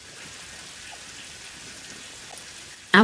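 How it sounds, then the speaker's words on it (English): Rain falling in a video game, a steady soft hiss of drops that fills the whole stretch evenly, ending with a short louder burst. "They've done a good job with the rain."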